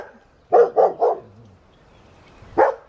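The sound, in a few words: neighbor's dog barking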